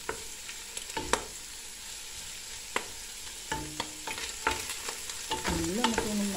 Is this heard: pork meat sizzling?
yes